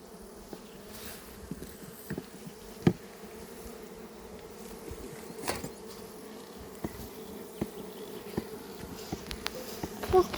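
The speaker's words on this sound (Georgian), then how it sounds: "ფუსია ფუტკრებში." Honeybees buzz steadily inside and around a beehive as colonies prepare for winter, with a continuous mid-pitched drone broken by brief close passes of individual bees.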